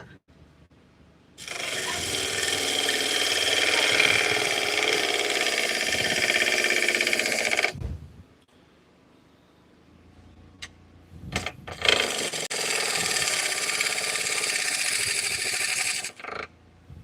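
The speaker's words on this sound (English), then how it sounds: "She bogs down my lathe a little bit." A small wood lathe runs under load while a sharp bowl gouge turns a large bowl, giving two long stretches of loud, steady rasping whir with a quieter idle and a few knocks between them.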